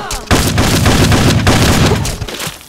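Loud shotgun blasts in Fallout 3 boom out close and dense after a brief quiet start, a rapid volley of heavy reports and rumbling impacts filling nearly three seconds before tapering off.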